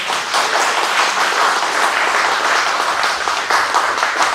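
Steady, dense applause from a sizable crowd at a community centre open day, honouring a municipal wind band, loud and continuous throughout with no break.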